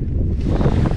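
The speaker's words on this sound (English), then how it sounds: "So windy!" Strong wind blustering across the microphone outdoors near the Meteora monasteries, a loud, rough, continuous low roar with gusty swells and no voices.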